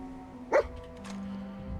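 A single short dog bark from the companion dog Dogmeat in the video game Fallout 4, heard once over a steady game background hum.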